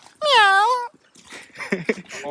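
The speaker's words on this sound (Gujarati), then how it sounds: "બિલાડી" A cat gives one clear, loud, drawn-out meow, then people talk close by.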